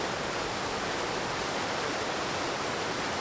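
Steady, full roar of a waterfall at a busy falls spot, a continuous broadband rush of falling water heard up close with no voices over it.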